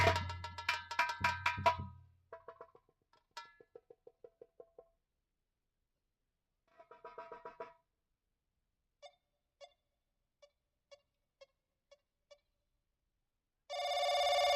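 A telephone rings in a series of ringing bursts, loud at first, then spaced single rings fading in and out, with a louder ring returning at the end.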